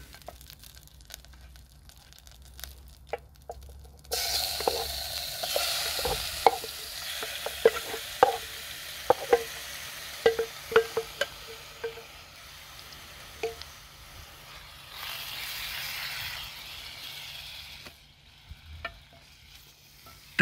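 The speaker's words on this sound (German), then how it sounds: "Dazu recyceln wir übrigens das Öl, das wir anfangs für die Kochbananen verwendet haben." Marinated chicken fries in oil recycled from plantains on an outdoor Trangia camping stove: a soft, steady sizzle that swells after a quiet start, with scattered clicks and scrapes of stirring close by and no talking.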